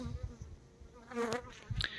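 Honeybees from a hive never treated against varroa buzz close by, droning in short passes that rise and fade as individual bees fly near, with faint background noise.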